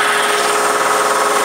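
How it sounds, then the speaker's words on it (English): A power drill runs steadily at close range while perforating the core of a composite boat deck for a 23-foot center console, a continuous whirring drone with no pauses. "Joe's over there drilling, perfing the core."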